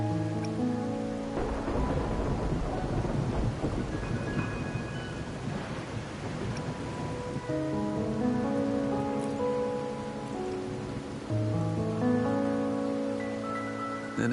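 Steady rain falls at night in Wuthering Waves, a constant hiss of drops with low rumbling beneath and music tones layered over it throughout.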